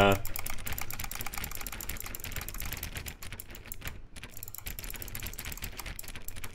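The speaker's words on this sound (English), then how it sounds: "Y'all want to hear the clicking, by the way?" A button in a video game is clicked over and over in a rapid, steady stream of sharp clicks that runs nearly without pause throughout.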